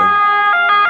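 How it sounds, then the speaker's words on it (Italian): Ambulance sirens wail steadily on a road near a junction toward Piacenza and Lodi, a loud, close, continuous tone with a repeating pitch rise every fraction of a second, heard alone. "queste che sentite sono le ambulanze che vanno a Piacenza"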